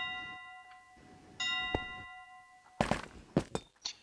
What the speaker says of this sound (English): this bell's meant to be making those sounds that you just heard